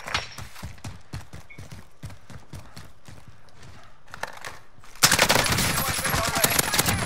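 Gunfire in the Call of Duty Warzone video game: a steady run of evenly spaced shots, then a sudden, much louder and denser stretch of rapid automatic fire for the final couple of seconds.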